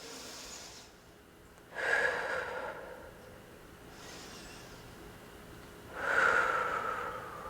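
Deep, audible breaths during a yoga exercise, two strong airy inhales with softer exhales between them, close and unhurried in a quiet room, no talking.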